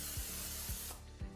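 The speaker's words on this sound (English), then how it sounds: "I do want to spray my cookie sheet with nonstick cooking spray." Three quick bursts of nonstick cooking spray hiss onto a cookie sheet, each with a soft clicking pump at the nozzle, close and clear with no talk.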